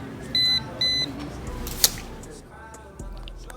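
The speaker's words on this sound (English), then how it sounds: "When it beeps, that means the outlet is working." A handheld voltage tester gives two short, bright electronic beeps near the start, followed by a sharp click and faint handling noise.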